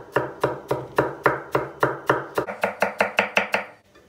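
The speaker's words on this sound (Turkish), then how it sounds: "Bunların hepsini ince ince doğrayacağız" Knife finely chopping vegetables and a capia pepper on a board, a steady run of about fifteen crisp close strikes that quicken toward the end, with no talking.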